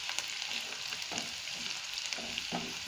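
Finely chopped ginger, garlic and green chillies fry in a pan for veg Manchurian gravy, a continuous close sizzle with small stirring clicks and scrapes and no talking.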